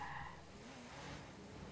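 A sports car engine in the video game Watch Dogs revs with a short tire squeal, heard faintly and somewhat muffled.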